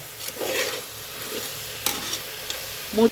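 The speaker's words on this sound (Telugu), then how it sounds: "మూత పెట్టేసాం, కలుపుతూనే ఉండాలమ్మా." Vegetable soup stirred in a pot, a few soft scrapes and clinks against a low bubbling simmer, close and fairly quiet, ending with a sharper metallic knock.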